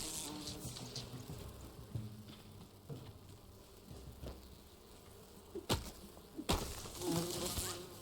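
Insect-like buzzing from bees in the video game Enshrouded, a steady droning swarm running under game sounds, with a couple of sharp louder bursts near the end.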